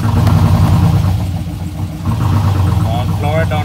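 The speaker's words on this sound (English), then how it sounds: "Try and crank it." A car engine cranks over and then runs with a low, loud, throbbing rumble that rises and falls as it revs, while people talk nearby over the noise.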